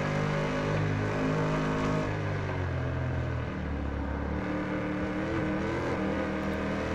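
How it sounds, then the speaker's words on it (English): Sim race cars roar together into turn 1 at Virginia International Raceway, a dense, loud engine drone that swells and shifts as the pack brakes and accelerates, with no voices over it. "Definitely hear those engines roaring as we come in here to turn 1"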